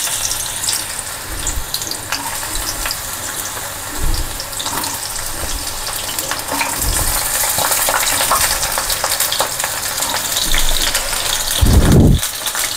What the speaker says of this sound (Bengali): পটলগুলো ছেড়ে দিলাম।